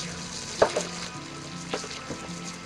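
Meat seasoned with cumin searing in a pan for a homemade soup curry, a soft steady sizzle with a few sharp utensil knocks and scrapes standing out.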